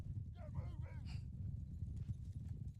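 Cavalry horses in a Lord of the Rings strategy game clop along with a steady rumble of hooves and a brief whinny, low and continuous under someone talking.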